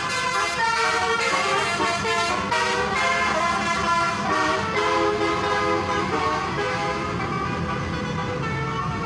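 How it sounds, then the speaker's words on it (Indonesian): Telolet horns on a convoy of buses passing along a road toot back and forth in loud, continuous musical blasts over steady traffic noise. "Masing-masing bus saling bersautan memainkan klakson telolet, menciptakan suasana ramai dan ceria di sepanjang jalan."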